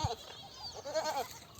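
A goat bleats in a short, wavering cry, moderately close against a faint background hum, lasting about a second.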